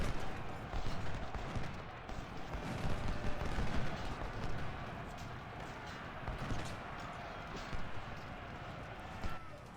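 Distant battle din from the Civil War strategy game Ultimate General, with artillery fire support at First Bull Run: a continuous rumbling roar of massed cannon and musketry, steady and dense throughout with no clear separate shots.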